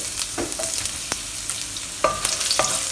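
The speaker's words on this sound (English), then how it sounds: "We'll fry our aromatics first." A piece of cinnamon bark, two star anise and sliced young ginger fry in oil over medium heat, crackling and popping in scattered bursts over a low sizzle, close up with no speech.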